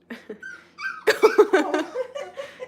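A German Shepherd puppy just starting to walk gives a string of soft, high whimpers and yips, close and fairly loud, with no talking over them.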